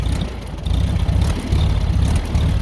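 A 1985 Mexican Volkswagen Beetle engine is revved several times up close, the low rumble swelling in three or four surges before settling back.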